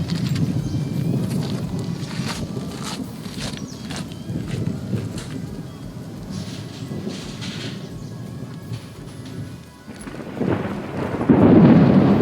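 A thunderstorm rolls over a shipping container cabin build site, with low, rumbling thunder and steady rain, swelling into heavier, louder rumbling toward the end.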